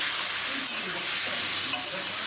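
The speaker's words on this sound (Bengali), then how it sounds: "কতগুলো পটল ভাজছি" Steady hiss of pointed gourd frying in oil with a faint scrape or two of stirring, continuous throughout and fairly close.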